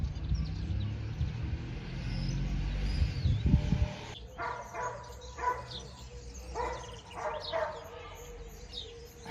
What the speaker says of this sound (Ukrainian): Собака гавкає, овчарка.